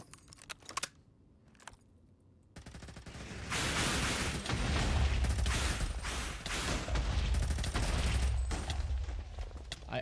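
Rapid gunfire in the Sky Factory 5 Minecraft modpack, a few sharp clicks at first, then a loud sustained burst of fire that runs for several seconds before tapering, with no voices.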